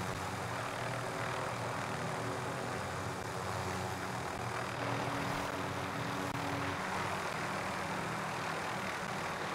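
Steady, close helicopter rotor and engine drone from a Call of Duty Warzone match, holding constant and loud throughout with no voices.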